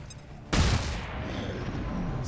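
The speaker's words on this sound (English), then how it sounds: "You can flashbang that guy, though." A flashbang grenade going off in the video game XCOM 2, a single sudden loud bang that leaves a lingering hiss and rumble afterward.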